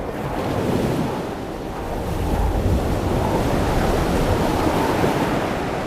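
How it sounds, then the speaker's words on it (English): A full gale of about 40 to 45 knots blows along the Haida Gwaii coast, with surf roaring and rolling beneath a heavy, continuous rush of wind buffeting the microphone, and no voices. "It's a 40, 45 knot wind blowing, full gale."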